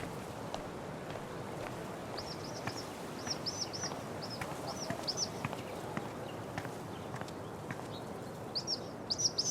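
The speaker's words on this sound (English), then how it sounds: "I wonder if this is the bird that woman is looking for." Bird chirping in the video game Life is Strange: True Colors, short high twittering bursts repeating over a quiet outdoor ambience with faint soft footsteps.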